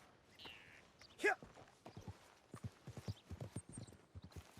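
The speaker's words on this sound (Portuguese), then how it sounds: "Vamos ter que devolver esse cavalo aqui agora." A horse's hooves clip-clop in steady walking rhythm in Red Dead Redemption 2, with a brief snort or whinny near the start, close and fairly quiet against a soft game backdrop.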